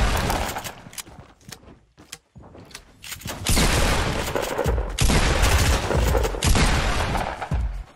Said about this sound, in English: You just love the shotguns in this game.